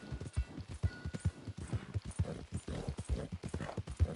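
Horse hooves in Red Dead Redemption 2 clip-clop in a steady walking rhythm, close and fairly soft, with no talking over them.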